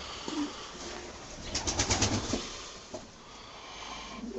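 Domestic pigeons coo inside a loft of show cocks, a low murmuring cluster swelling in the middle with a brief flutter, then fading to soft background rustle.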